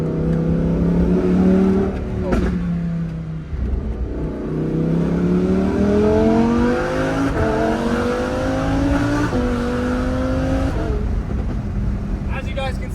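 Straight-piped Lamborghini Huracan Evo with 602 horsepower pulling hard on fall backroads, its loud engine climbing through repeated rising runs with quick shifts between, close and continuous.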